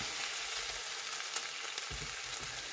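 A Spanish tortilla cooks in a pan over medium heat, giving a steady, even sizzle of frying with a couple of faint clinks, continuous and close with no talking.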